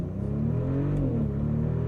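A 2025 Mercedes-Benz G550 in sport drive mode, its engine revving loud and close as it launches and accelerates hard, with a steady low drone that climbs in pitch.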